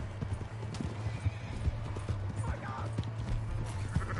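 Horse in the video game Red Dead Redemption 2, steady clip-clop of hooves with a whinny partway through, under a low continuous hum and game background sounds, with voices occasionally present.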